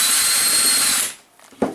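A child runs a power drill on a tiny house build site, one loud close whirring burst that stops abruptly, followed by quiet and a couple of small clicks and knocks.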